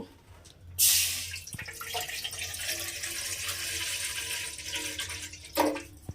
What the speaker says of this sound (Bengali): এবারে আমি এর মধ্যে আবারও একটু জল দিয়ে দেব।